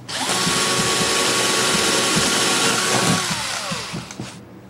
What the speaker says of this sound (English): This lets me drill the other set of pins that I need for holding the bridge in place.